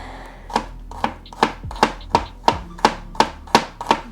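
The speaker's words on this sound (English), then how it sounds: "Okay, I'm chopping these." A knife chops pumpkin for soup on a board, about ten crisp, evenly spaced chops landing in a steady rhythm, close and clear with no talk.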